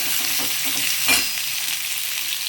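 Onions and dried red chillies stirred in hot oil for onion sambar, a steady broad sizzle with a brief louder scrape of the spoon near the middle, close and continuous throughout.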